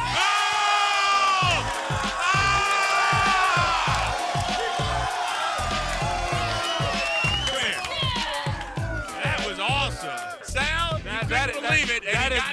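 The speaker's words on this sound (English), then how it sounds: "the crowd's out here. They're kind of amped" A crowd at a basketball dunk contest cheering and whooping loudly, a sustained roar with rising shouts and screams throughout, under a rhythmic thumping beat.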